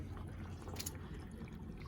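Water runs steadily into a water-filled punch bag, a soft continuous gurgling trickle heard faintly and close, with no voices.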